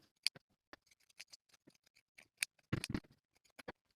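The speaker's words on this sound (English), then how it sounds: "we can clip the corners and trim the seams" Scissors snipping fabric corners and trimming seams on a sewn jumpsuit facing and collar, a series of faint, sharp clicks and cuts with a brief cluster of louder snips.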